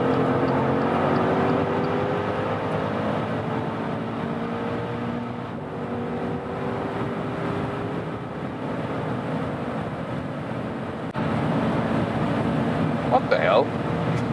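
Maserati Levante Trofeo V8 accelerating hard on a freeway, heard from inside as a sustained engine drone with rising tones and heavy road and wind roar, loud and continuous.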